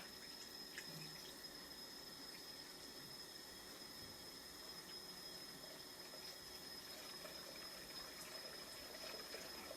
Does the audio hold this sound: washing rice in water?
yes